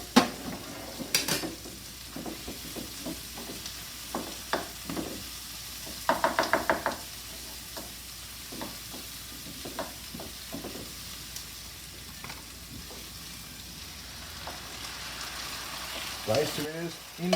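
Garlic frying in a pan for country captain chicken, with a spoon stirring and knocking against the pan in repeated close scrapes and clacks over a steady low sizzle, with a louder burst of activity midway.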